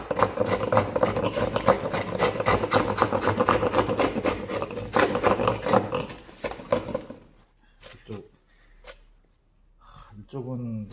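Hand tool scraping and carving a wooden plate, a steady run of close rasping, rubbing strokes that stops, followed by a few sparse light taps.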